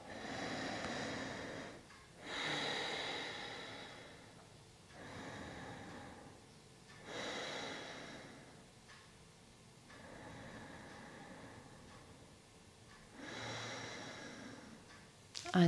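Slow, deep breaths during a bedtime yoga pose, each long airy inhale and exhale rising and fading in a steady rhythm of about six cycles, close and soft with no talking.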